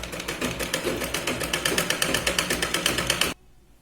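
Sewing machine stitching the neckline of a katori blouse, a fast, even run of needle strokes close up that stops abruptly near the end, leaving only faint background hum.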